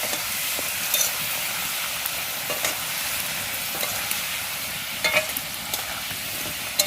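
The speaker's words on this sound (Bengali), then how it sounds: "এই যে কড়াই বসিয়ে দিয়েছি আলু ভাজতে, আর আলুটা ভাজা ভাজা হয়ে এসেছে" Potatoes frying in a kadai wok, a steady, close crackling sizzle with occasional clicks and scrapes of stirring throughout.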